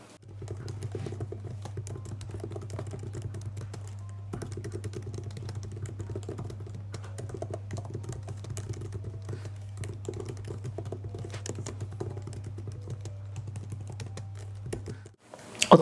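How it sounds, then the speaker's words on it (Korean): Typing on an iPad Magic Keyboard, a steady run of close, crisp key clicks for about fifteen seconds over a faint low hum, with no talk. "이쯤에서 잠깐 한번 키보드 소리 듣고 오실까요?"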